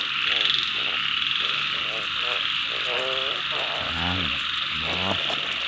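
Frogs croak in a rice paddy during a heavy downpour, their repeated rasping calls rising in bursts over a steady roar of rain, close by and loud throughout.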